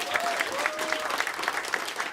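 Audience applause at a Dutch cabaret-style show, a steady wash of clapping with a few scattered whistles, fairly close and continuous for the whole stretch.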